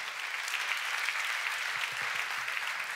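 Conference audience at a startup pitch competition applauds steadily, a dense even patter of many hands clapping throughout with no speech over it.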